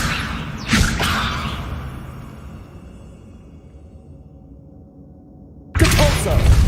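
The Levioso spell being cast in Hogwarts Legacy, a sharp whooshing burst with a thud followed by a fading magical hum, then another loud swish, with a voice speaking over parts of it.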